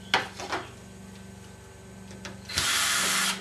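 A few short mechanical bursts and clicks, then a power drill whirs steadily at close range for nearly a second, pre-drilling about half an inch into turkey legs, before stopping.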